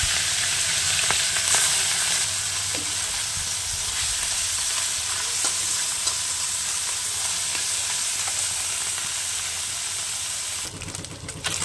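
Loud, continuous sizzling and hissing of small turmeric-and-salt-coated fish frying in oil fills the whole stretch, steady and close, with no voices.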